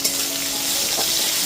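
Tomato being stirred and fried in oil in a pan, a dense close sizzle with soft stirring scrapes, continuous and steady without any voice.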